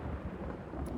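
Thunder rumbles low and continuous as rain begins in the SCUM video game, a muffled rolling roar with a soft patter on top, steady and moderately loud for a moment.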